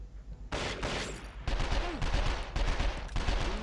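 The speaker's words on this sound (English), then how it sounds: "There's a revolver that you pick up soon, I'm gonna use that to get the headshots." Revolver gunfire in the video game 24: The Game, a rapid run of loud, sharp shots with ringing tails, repeated over and over without pause, heard alone with no talk.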